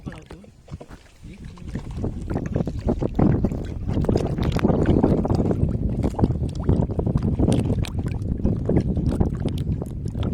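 A boat moves across open water with continuous splashing and rumble, loud and close, mixed with heavy wind buffeting and voices talking over it.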